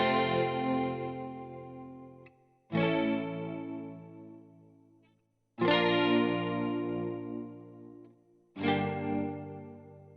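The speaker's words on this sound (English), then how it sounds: "So this is what that electric guitar sounds like." Electric guitar through an 80s-style chorus and reverb plugin plays four sustained strummed chords, each ringing out with a shimmering, wide wash before the next one cuts in. The sound is loud and steady, with no voices.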